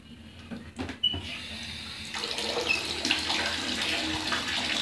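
Hot water gushes steadily from a tap into a tub or basin, a broad continuous splashing rush that swells after the first second and stays loud and close with no talk over it.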